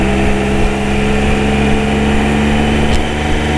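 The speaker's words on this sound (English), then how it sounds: "the engine is really quite loud" A Triumph Trophy 1215 SE motorcycle's triple engine runs steadily with a constant droning hum and rough low rumble, no voices.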